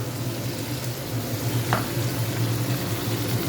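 Fish sizzling gently as it fries in a home kitchen pan, a steady soft crackle of oil continuing evenly for a few seconds with no voices.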